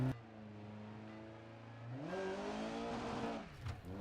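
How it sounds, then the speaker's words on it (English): A rally car launches off the line in the racing game Dirt 2.0, its engine idling steadily before surging into a loud rising rev as it accelerates hard, close and clear with no talk. "A perfect launch, and his car's working as it should."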